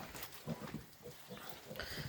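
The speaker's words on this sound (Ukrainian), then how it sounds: "А в'єтнамці плюс вони витривалі, витривалі свинки вони." Vietnamese pot-bellied pigs on a small mini farm grunt and snuffle in a low, steady murmur, with a few closer oinks rising out of the mix in a busy pen.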